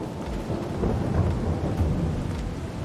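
Steady rain with low rumbling thunder in a farming survival video game, a dense continuous wash of sound without a break and no voices.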